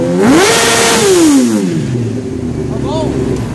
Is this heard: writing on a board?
no